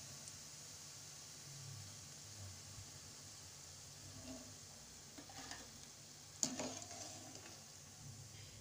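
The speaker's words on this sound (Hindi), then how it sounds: "कोफ्ते लाइट ब्राउन होने शुरू हो गए हैं, थोड़ा और फ्राई कर लेते हैं।" Malai koftas deep frying in hot oil, a steady soft sizzle and bubbling running throughout with a few stirring clinks near the end.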